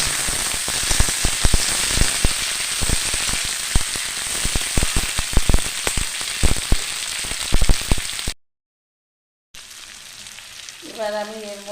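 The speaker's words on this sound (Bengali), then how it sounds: "দিয়ে এটাকে ভালো করে ভেজে নেব।" Capsicum and tomatoes fry in a pan with a dense, loud, crackling sizzle full of sharp pops and spits. It runs steadily, stops abruptly, and then a brief quieter, different sound follows.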